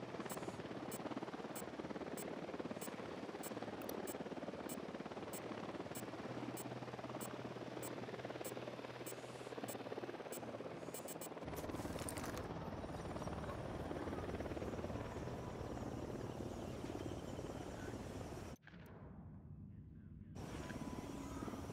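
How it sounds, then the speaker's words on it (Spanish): A helicopter in the video game Ghost Recon Wildlands drones loudly and steadily with a rapid rotor chop, staying close the whole time, broken by a brief drop near the end before it resumes. "¡Al suelo! ¡Un helicóptero!"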